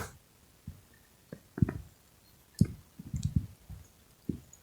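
Computer mouse clicks while navigating a job website, a handful of sharp, close clicks spaced irregularly, some in quick pairs or clusters, over a quiet room background.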